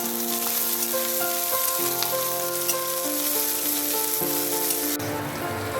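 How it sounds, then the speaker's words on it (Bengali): Green peas frying with lightly browned onions in a pan for a dhaba-style cauliflower and potato dish, a steady, loud sizzle with occasional stirring clinks running throughout, no talking. "পেঁয়াজ হালকা ব্রাউন হলেই 1 কাপ মতো মটরশুঁটি দিয়ে দিতে হবে।"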